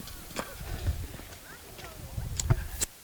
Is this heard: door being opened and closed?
no